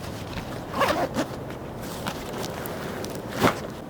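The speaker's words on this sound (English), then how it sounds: "Zippers, again, super smooth." A 5.11 Rush 24 tactical backpack zipper runs in a quick rasping pull, then a second shorter zip a few seconds later, close and crisp with light handling rustle between.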